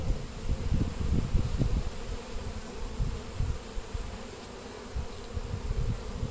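Saskatraz honeybees buzz on a hive frame, a close, continuous low drone with fluctuating swells and no voices.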